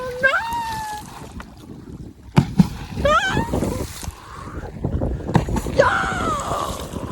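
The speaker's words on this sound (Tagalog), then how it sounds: "Pupunta dito yung hangin guys." Strong wind gusts buffet the microphone over splashing water during net fishing, while excited voices shout and call out intermittently.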